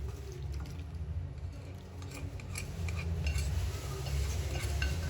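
A utensil stirs hot liquid into rice in a pot for nasi minyak, making soft scraping and light clinking with wet swishes under a low steady background.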